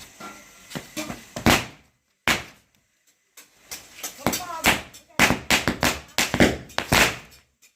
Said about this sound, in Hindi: ये छोटी दीपावली का छोटा धमाका शुरू होने वाला है